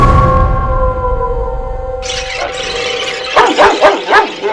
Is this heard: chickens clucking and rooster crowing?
no